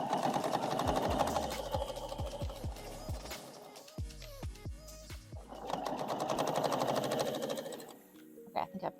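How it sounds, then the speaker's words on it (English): An electric sewing machine stitches through pillow fabric in quick bursts with short pauses between runs, the whirring motor close and clear, while a person talks over it. "let's do some back stitching here"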